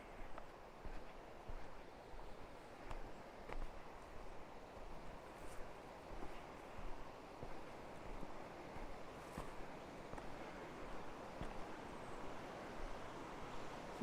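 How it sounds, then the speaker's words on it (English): Hyalite Creek in Hyalite Canyon near Bozeman, a steady, fairly faint rush of flowing water with soft wind noise across the microphone and occasional small clicks, no voices. "Maybe there isn't a waterfall, but there is this awesome Hyalite Creek here."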